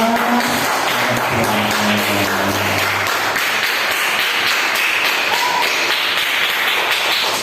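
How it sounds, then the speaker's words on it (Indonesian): Students in an elementary classroom clapping for their class together, a steady dense patter of many hands filling the room, fairly loud and continuous, with some faint tones early on. "Tepuk tangan semua untuk kelas 2 semua"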